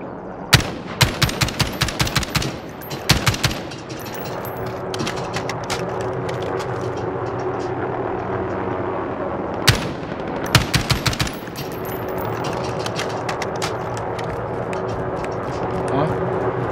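Bursts of rapid automatic gunfire from a Call of Duty: Warzone match, loud and close, with a sustained stretch of weapon and background game noise between the volleys.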